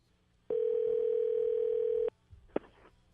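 A steady telephone dial tone holds for about a second and a half during a call to a radio show listener, then cuts off and is followed by a brief click and faint line noise.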